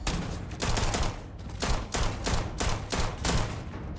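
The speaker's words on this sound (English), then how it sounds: "this pistol works better" Rapid pistol gunfire in the sci-fi video game Starfield: a dense run of sharp shots in quick bursts, loud and steady for several seconds, with no talking.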